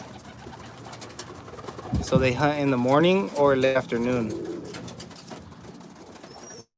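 Pigeons in training coo close by, with soft, rolling calls. Someone talks over them for much of the time.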